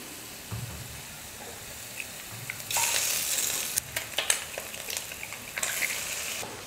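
Beaten eggs with sautéed carrot and cabbage fry in a little oil; quiet at first, then a loud, bright sizzle bursts in as the eggs hit the pan, continuing with crackles and stirring scrapes.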